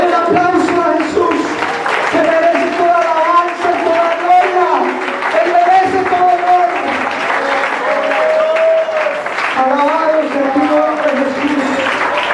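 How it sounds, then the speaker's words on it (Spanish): A church congregation applauds continuously during a sermon, loud steady clapping with voices calling out and cheering above it throughout. "Denle un aplauso a Jesús, que merece toda alabanza"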